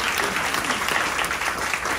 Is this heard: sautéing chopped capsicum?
no